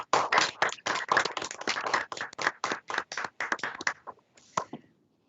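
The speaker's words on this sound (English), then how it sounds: "let's give all a round of applause" A small group claps in a live-streamed court session, sharp close handclaps in uneven bursts that thin out and stop within a few seconds.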